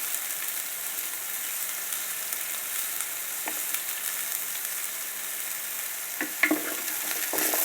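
Garlic and onion frying in oil in a pan for pork dinuguan, a steady close sizzle with a few brief stirring clinks near the end.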